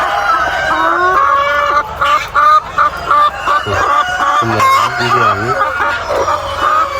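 Andijan black hens crowd a pen, clucking and squawking loudly and close by in a busy overlapping chorus, with a few longer honking calls rising in pitch near the middle.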